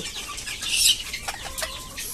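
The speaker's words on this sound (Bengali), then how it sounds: "তো দেখতে পাচ্ছেন মুরগিগুলো" Chickens in a backyard flock give a few close, soft clucks and short squawks over a light background hum.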